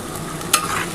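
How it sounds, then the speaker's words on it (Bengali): Spices fry in a pan for a wedding-style doi katla fish curry while being stirred, a close, steady sizzle with a sharp scraping clink midway as the utensil moves through them. "আগে প্রথমে এই মশলাটা একটুখানি ভাজা ভাজা হয়ে গেলে"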